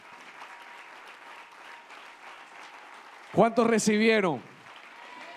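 Church congregation applauding, a steady clapping wash throughout, interrupted briefly by a loud spoken phrase from a man near the microphone before the applause continues.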